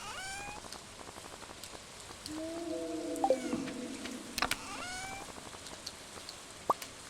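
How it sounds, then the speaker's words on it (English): Steady rain falls in Stardew Valley, a soft continuous patter with brief game chimes and tones rising over it midway, with no talking. "There's good fishing on rainy days."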